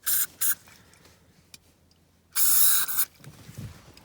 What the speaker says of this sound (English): spraying a little bit on each side